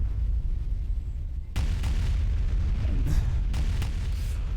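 Orbital bombardment in the Empire at War Remake strategy game, a heavy boom followed by several rumbling blasts at irregular intervals over a low background roar.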